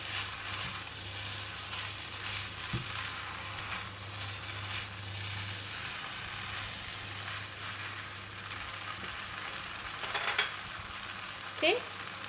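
Bean sprouts and flat kuey teow rice noodles frying in a hot pan with shiitake mushroom, a steady low sizzle with occasional soft stirring scrapes and a couple of sharper clinks near the end, no talking.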